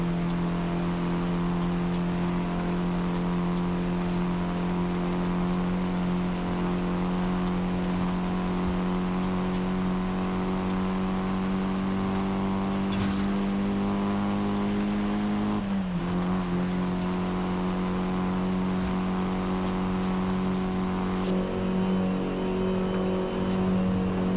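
A Mitsubishi Starion driven in Forza Horizon 5 holds a steady engine drone with a few shifts and pitch dips, moderately loud and continuous without any talk.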